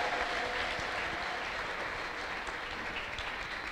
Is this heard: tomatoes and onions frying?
no